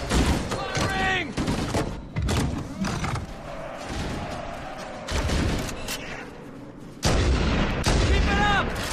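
Heavy weapons fire in the video game Halo: Combat Evolved: repeated loud bursts and booming blasts in uneven clusters, mixed with shouted voices and battle noise.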